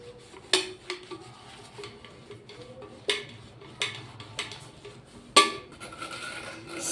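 A greasy steel oil can being scrubbed, with rubbing strokes punctuated by several sharp metallic clanks at irregular intervals, close and fairly quiet, with no one talking.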